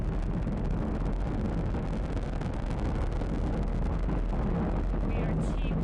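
The nine Merlin engines on the first stage of a SpaceX Falcon 9 roar during a crewed Dragon launch, a dense, steady, loud broadband rumble that fills the sound throughout.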